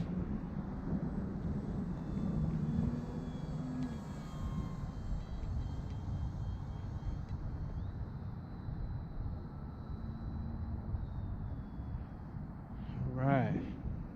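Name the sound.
radio-controlled Bushwacker model airplane flying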